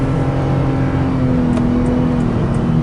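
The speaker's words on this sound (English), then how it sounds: "I want you to hear how quiet this car is. The engine is running currently. Let's see the acceleration pickup." A 2012 Toyota Highlander Hybrid Limited accelerates from inside the cabin, giving a steady, fairly loud engine and road hum with a faint rising whine and no talking.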